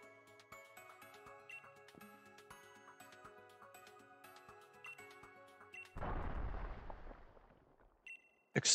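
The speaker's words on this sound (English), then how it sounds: "Explosion." An Explosion attack in the Pokémon Sword game, a sudden noisy burst that cuts through quiet chiming game music about six seconds in, lasts roughly two seconds and fades, then a short bright chime follows.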